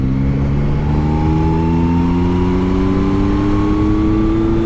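A Yamaha Tracer 9 GT motorcycle pulls hard at full throttle in sixth gear from about 60, its engine note loud and close, rising steadily in pitch without interruption.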